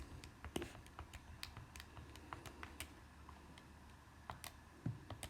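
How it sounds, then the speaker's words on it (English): Keys pressed on a calculator, a quick irregular series of light clicks and taps heard close and quiet, with no talking. "type that into your calculator"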